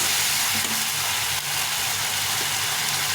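Tomato paste fries in a pan with cumin and bay leaf for a potato curry, a dense continuous hiss and sizzle with faint stirring underneath.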